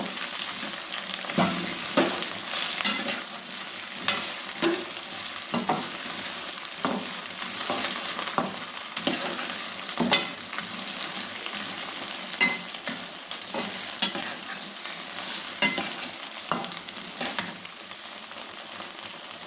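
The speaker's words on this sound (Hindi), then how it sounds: "हमने भिंडी को फ्राई कर लेना है अच्छे तरीके से।" Okra frying in a pan, a steady close sizzle with repeated scraping and stirring clicks throughout, fairly loud and without talk.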